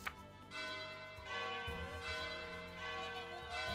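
A chiming bell rings in The Game of Life 2 video game, with repeated resonant bell tones that sustain and overlap over a few seconds, clear and prominent.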